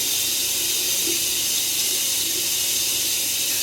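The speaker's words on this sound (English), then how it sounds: "Now I'm just rinsing it off with warm water." Warm tap water runs steadily into a sink while cleanser is rinsed off a face, a loud continuous hiss close by, alone without talk.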